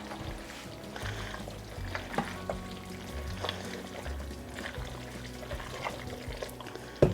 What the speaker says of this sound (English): Then we're just going to mix well and get those noodles